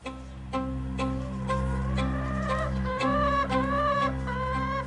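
Hen clucking while eating food among backyard chickens, a steady run of close, loud clucks and soft squawks over a constant low hum.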